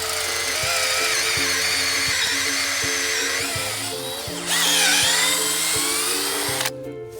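A power drill bores a tap hole into the sunny side of a tree, whining steadily and loud and close for several seconds, its pitch shifting as it is pulled out and pushed back in, then cutting off abruptly.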